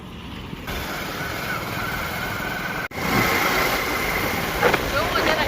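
Wind buffets the microphone during a vehicle ride along the Bhuj highway, a loud continuous rushing roar over a low engine rumble, with a brief dropout midway.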